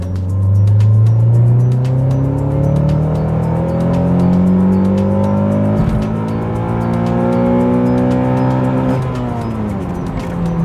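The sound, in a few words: Honda Accord CL9 accelerating at full throttle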